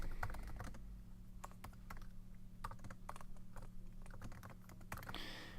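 Quick bursts of keystrokes clatter on a computer keyboard as code is entered, irregular clicks with short pauses, faint and close with a low room hum beneath, no talking.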